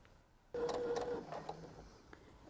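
A sewing machine stitches a fabric table runner backed with fusible fleece, starting abruptly with a close, quiet mechanical whir in a short burst that settles into softer running sounds against a hushed room.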